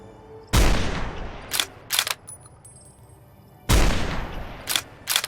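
Gunfire in Fallout: New Vegas: two loud, sharp shots a few seconds apart, each followed by a pair of quicker smaller bangs, with a quiet background between bursts.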